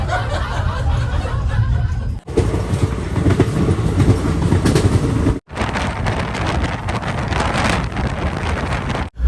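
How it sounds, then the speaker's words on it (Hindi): Indian passenger train in a first AC coach rolling along at speed, with a loud continuous rumble and rattling clickety-clack of the railcar, interrupted by two brief dropouts and some wind buffeting on the microphone. "अभी लग रहा है कि ट्रेन ने थोड़ी रफ्तार पकड़ी है, बहुत तेज चल रही थी।"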